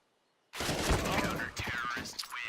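A single heavy AWP sniper rifle shot in a Counter-Strike match erupts loudly out of silence, followed by a dense, ringing wash of gunfire and game sounds under a commentator's voice.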